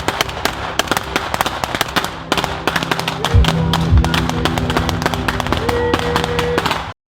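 Rapid gunfire rings out during Swedish Arctic Ranger military training, with dense bursts of sharp cracks from several shooters, near and loud, continuing for several seconds before cutting off abruptly.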